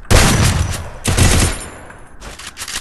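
Bursts of UMP submachine gun fire in the Free Fire video game, two loud close volleys about a second each, then a shorter third burst after a brief lull.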